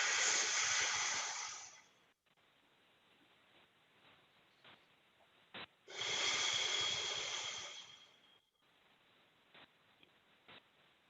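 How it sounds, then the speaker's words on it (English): Two slow, deep breaths taken during a gentle neck stretch, each a long airy inhale or exhale lasting a couple of seconds, close and clear, with quiet pauses and faint clicks between them. "I'm gonna take a good 3 breaths."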